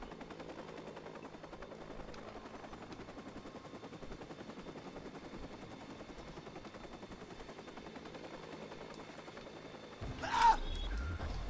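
A helicopter in the Watch Dogs video game drones with a continuous rhythmic rotor chop at moderate loudness, broken near the end by a sudden sharper burst.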